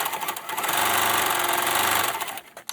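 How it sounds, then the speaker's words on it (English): Close, loud whirring of a sewing machine stitching near the edge of a fusible fleece square for a mug rug made from sweaters, running steadily at speed before slowing and stopping near the end. "stitch really close to the edge of your fusible fleece all the way around the square"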